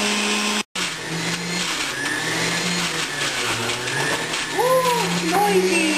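A juicer grinds a whole cucumber into green juice, a loud steady mechanical whir that runs throughout with a brief cutout near the start, while rising whistling tones sweep over it toward the end.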